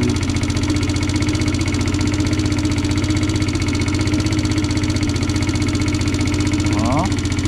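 A Kymco Agility 50 scooter engine idles steadily up close, a fast, even putter that holds a constant pitch and level throughout.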